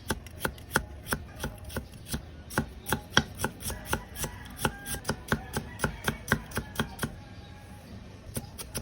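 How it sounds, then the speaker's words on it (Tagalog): Peeled ginger is chopped on a board with a quick, steady run of crisp knife strikes, about three per second. The cuts are close and distinct for most of the stretch, then thin out toward the end. "At hiniwa lang natin na medyo pa-chop-chop-chop."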